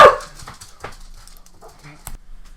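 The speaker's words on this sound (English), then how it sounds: "I don't know what happened with my dogs. They never bark, and now they are." Pet dogs bark in short bursts indoors, a few sharp close yips and woofs scattered among quieter gaps, with faint whimpering between them.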